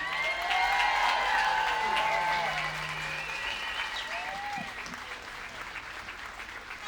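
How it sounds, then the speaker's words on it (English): Outdoor crowd applauding at a March for Life rally in Parliament Square, London, loud sustained clapping with scattered cheers and voices, easing slightly toward the end. "Can we just give a massive round of applause to Amrita and her beautiful daughter?"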